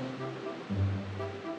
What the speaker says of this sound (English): I want to hear waves.